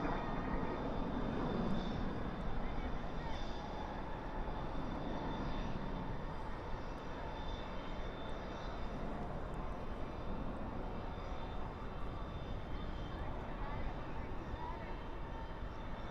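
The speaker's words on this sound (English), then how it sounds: "And this flight is going to Spokane. It is flight 303, an Airbus A320." An Airbus A320 roars steadily as it takes off at night from Dallas/Fort Worth International Airport. The broad jet engine rumble holds at a distance for the whole stretch.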